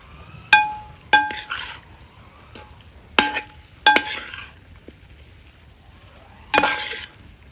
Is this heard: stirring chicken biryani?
yes